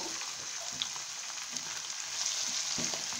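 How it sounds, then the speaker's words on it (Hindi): Fenugreek leaves fry with onion in a pan for methi aloo, giving a steady, quiet, close sizzle with faint stirring crackles throughout and no voices. "और इसको हम इसमें हल्का सा फ्राई करेंगे, बहुत ज़्यादा फ्राई नहीं करना, हल्का सा फ्राई करना है।"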